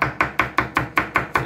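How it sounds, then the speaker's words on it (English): A knife chops through a green pepper on a cutting board in a Jamaican kitchen, eight crisp evenly spaced chops in a steady quick rhythm, close and clear with no talking. "Cutting up my green pepper."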